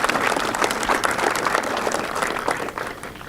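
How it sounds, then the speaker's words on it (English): An outdoor crowd at a school groundbreaking ceremony applauds the town building commission, a steady, full round of clapping heard alone and tapering slightly at the end. "I think we just got to give the Building Commission a round of applause"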